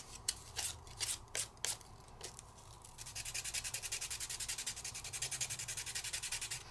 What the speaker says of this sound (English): you just sand off the color you used